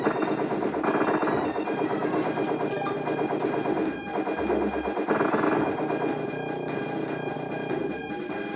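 Rapid gunfire from the player's powered-up weapon in a SNES platform game rattles continuously over busy chiptune music and sound effects, loud and dense throughout.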